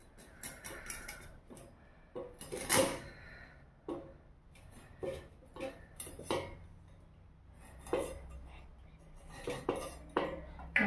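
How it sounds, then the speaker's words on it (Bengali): Red amaranth stalks chopped into pieces on a board, a steady run of sharp knife taps and clacks at uneven pace, close and fairly loud, with occasional clinks of utensils and no talk. "দেখুন আমি ডাঁটাগুলো এভাবে টুকরো করে নেব, আর চারাবো না, এইভাবে টুকরো করে নেব সবগুলো ডাঁটা।"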